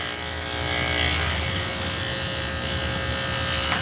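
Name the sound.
electric clippers trimming a Shih Tzu's coat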